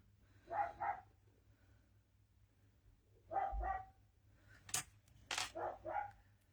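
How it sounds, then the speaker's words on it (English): Dogs shut in a kitchen bark in protest, muffled and distant, in several short bursts of two or three barks each with quiet gaps between. "the dogs barking in the background. I've shut them in the kitchen, and so they're protesting now."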